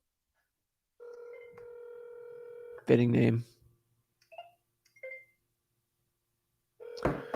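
A telephone dials out during a real-estate wholesaling cold call: a steady tone, then a brief burst of clicks and tones, a few short beeps, and another tone at the end, with a voice speaking briefly in between.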